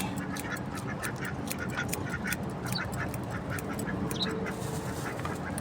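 A crowd of grown ducks quacks constantly nearby, overlapping calls in a busy, steady chorus.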